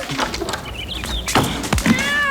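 A cat meows in a Sleepy Hollow film scene, giving a couple of short, clear mews over background sound, with a soft thump and other film audio around it.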